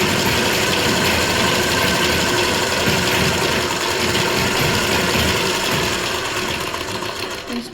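A sewing machine runs steadily while stitching pico edging on a saree, a close, loud, continuous mechanical whirr with rapid needle clatter that eases slightly near the end, with no talk over it.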